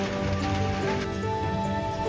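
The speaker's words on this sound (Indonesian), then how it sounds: "suara rintik hujan" Light rain patters steadily at a forest cafe on the mountain route between Ciwidey and Rancabali, a soft continuous hiss layered with faint sustained background tones.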